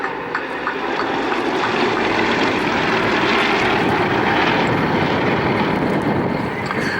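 Propeller aircraft of the Aerostars display team fly in a Chevron 6 formation over an airfield at Cosford, a loud, sustained, broad engine drone that swells slightly mid-pass, with no voices.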